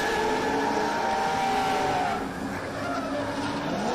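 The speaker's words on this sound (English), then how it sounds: "Ian Biz Phillips, that cone stuck under the front bumper, puts him into a spin" A drift car at the Oman International Drift Championship spins out during a competition run after a cone lodges under its front bumper: a sustained loud engine drone with squealing, skidding tires that dips briefly and then resumes.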